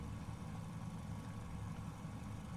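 Idling piston engine of a Fokker F.VII trimotor in a flight simulator game, a steady low rumble with a constant mid-range drone, moderately loud and continuous with no voices.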